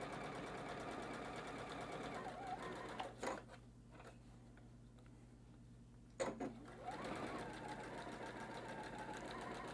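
A sewing machine stitches fabric for a tree ornament gift card holder, running in a steady loud whir that stops for about three seconds while the needle is pivoted at a corner, then resumes close by with no talk.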